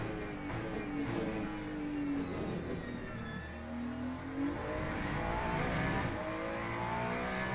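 GT3 race car engines roar continuously in the Le Mans Ultimate racing game, rising and falling with revs through corners and braking zones amid nearby rival cars.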